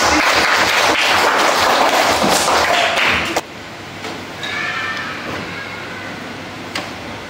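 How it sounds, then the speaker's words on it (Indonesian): A third-grade class of children claps together in a classroom, a dense burst of applause for about three seconds that stops abruptly with a thump, followed by quieter room noise and faint chatter. "Oke, tepuk tangan buat kalian semua."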